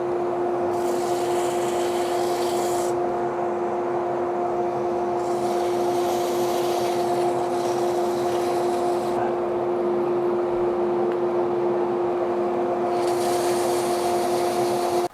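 Sanding a turned endgrain wooden box spinning on a lathe: a steady motor hum with a constant tonal whine, while abrasive rubbing swells in several long strokes and fades between them, close and continuous, no speech.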